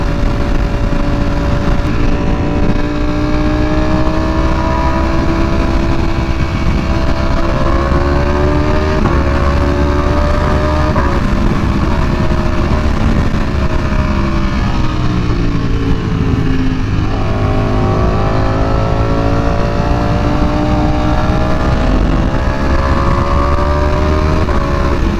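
A V4R motorcycle fitted with a new exhaust pulls through repeated gear shifts, its loud engine note rising in pitch, breaking at each shift and climbing again in a close, continuous ride-along roar.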